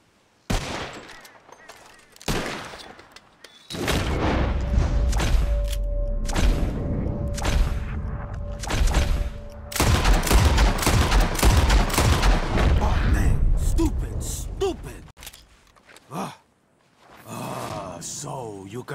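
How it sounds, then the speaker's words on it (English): Rapid volleys of gunfire from Red Dead Redemption 2 as players shoot birds out of the sky in a contest. The loud, repeated shots are spread through a busy in-game soundscape. "whoever shoots four birds out of the sky first wins"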